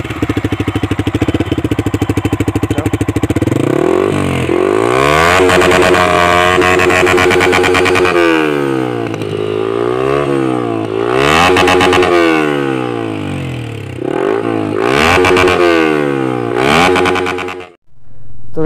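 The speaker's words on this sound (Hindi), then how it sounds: "अभी हम लोग इस MT-150 को स्टार्ट करेंगे। इसका एग्जॉस्ट नोट जो है आप लोगों के साथ दिखाएंगे।" A Yamaha MT-15 motorcycle with an aftermarket Akrapovic exhaust, loud and close, revved repeatedly with rising and falling engine pitch between idle stretches, cutting off abruptly near the end.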